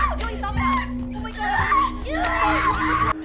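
A young girl shrieks and groans in rising and falling wails, her cries overlapping with other excited voices in a busy, noisy stretch of sound.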